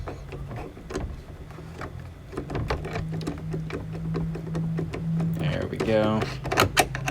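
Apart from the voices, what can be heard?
driving self-tapping screw through plastic shed panel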